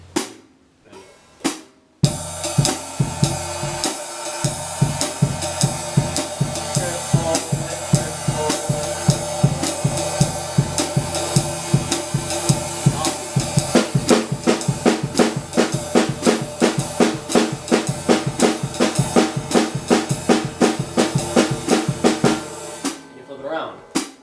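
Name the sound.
drum kit quarter note triplets with bass drum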